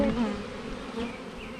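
Dense, steady buzzing of a swarm of bees just shaken from a beehive frame, filling the air at close range with a continuous drone that holds through the moment.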